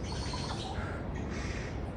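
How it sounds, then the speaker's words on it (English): Birds chirping in the trees along the Machu Picchu hiking trail, faint calls set against steady, loud broadband wind or rushing background noise. "Oh, and some crazy birds in the trees."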